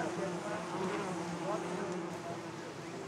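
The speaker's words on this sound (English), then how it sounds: "Look at the size of these bees." Steady, droning buzz of large bees hums continuously nearby, a low insect whine that holds without break, during a wild honey hunt in Nepal.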